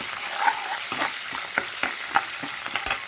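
Green chillies and curry leaves frying in hot oil for an aloo baingan curry, a continuous close sizzle with small pops and occasional stirring scrapes and taps.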